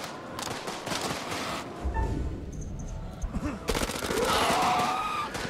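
Rapid gunfire rattles through a tense House of Ashes game scene, bursts of shots and fusillades rising and falling, with a voice talking over parts of it.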